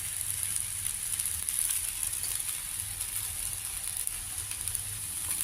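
Millet dosa frying in oil on a pan, giving a steady soft sizzle and faint crackle that runs evenly throughout without talk.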